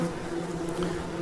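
Wasps and bees of several species buzz steadily at a nectar and honey feeder, a close, continuous drone with a low hum layered over faint background noise.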